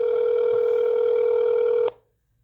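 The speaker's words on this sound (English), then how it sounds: "One moment while your call is connected." A steady telephone tone on a school district's phone line plays loud and unbroken for about two seconds while the call connects, then cuts off abruptly into near silence.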